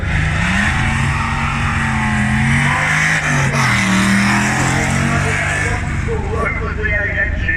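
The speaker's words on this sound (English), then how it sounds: "The V8 engine is absolutely obvious, that thing, isn't it?" A V8 car engine at the Kop Hill hill climb sounds near and loud, with a deep, rumbling tone that rises and falls in pitch against the outdoor crowd noise.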